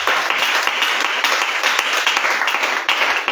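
A church congregation applauding and clapping for the Lord, loud dense sustained applause filling the whole stretch without letting up.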